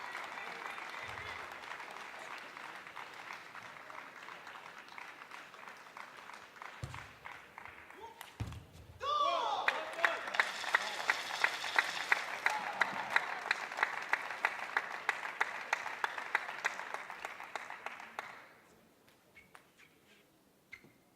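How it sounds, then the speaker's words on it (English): Crowd applause from a travelling German contingent beside the table at a European Championships table tennis match, building into a sustained burst of clapping for several seconds before fading, with a commentator's voice heard earlier. "that one gets a deserved round of applause as well from the travelling German contingent"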